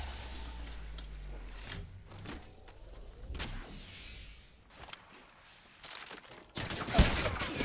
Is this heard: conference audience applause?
no